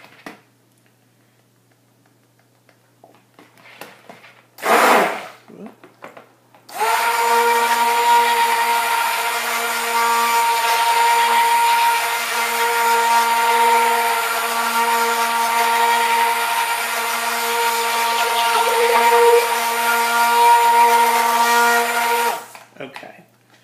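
A stick blender mixing soap batter colored with chamomile powder whirs steadily at close range for about sixteen seconds, starting after a brief burst and a few handling sounds.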